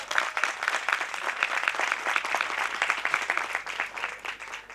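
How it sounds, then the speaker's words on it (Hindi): Audience applause at a Christmas church meeting in a Christian colony, a dense, steady wash of many hands clapping that holds evenly throughout. "प्रेज गॉड, ताली बजा देंगे इस बात में।"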